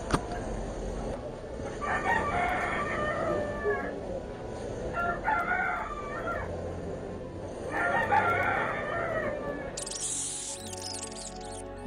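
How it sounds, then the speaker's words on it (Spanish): Roosters crow three times in succession in Pueblo Libre, each a long rising call, over a busy background of rumble and faint voices. "claramente se puede oír el sonido de los gallos"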